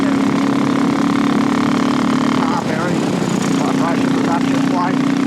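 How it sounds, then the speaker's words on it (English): A 2017 Royal Enfield Classic 500 motorcycle engine idles steadily and smoothly nearby, a constant low hum with a faint shift partway through. "It's quite a smooth engine."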